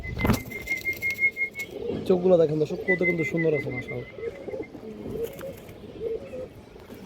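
Pigeons in a loft of female breeding birds coo softly in low rolling bursts beneath someone talking close by, with a few faint wing flutters.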